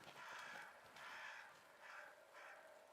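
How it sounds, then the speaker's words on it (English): Crows cawing in Banishers: Ghosts of New Eden, four drawn-out harsh calls in a steady rhythm, moderately distant and faint, with no talking. "I don't trust these crows."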